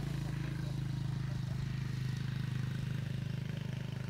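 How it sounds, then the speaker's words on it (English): A motorbike on a rural road in Tanzania drones past with a steady low engine hum and rhythmic pulsing, loud and close for several seconds without fading. "I'm going to pause for a minute while this motorbike goes by."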